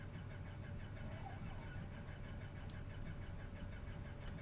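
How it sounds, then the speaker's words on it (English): Engine start on a Cessna 404 Titan twin-engine plane in Microsoft Flight Simulator 2024, a steady mid-pitched drone and whine holding at constant loudness throughout, with no talk over it. "let's start up the other engine here."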